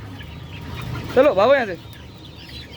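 Hens in a cage give a short burst of loud, close clucking and squawking, with a person speaking briefly nearby.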